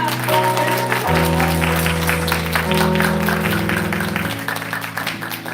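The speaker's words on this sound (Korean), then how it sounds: "여러분 박수 소리가" A church congregation at a Wednesday campus worship service claps steadily as people are called forward, the dense applause blended with sustained organ or keyboard chords throughout.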